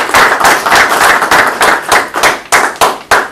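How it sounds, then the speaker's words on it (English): Close, loud hand clapping from an audience at a borough council meeting, a dense burst of claps that comes in repeated swells and stays strong throughout. "Please give them a nice round of applause."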